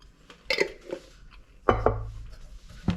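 Parmesan cheese is stirred into melted butter, with a utensil clinking and scraping against a dish in a few irregular knocks, close by and without talk.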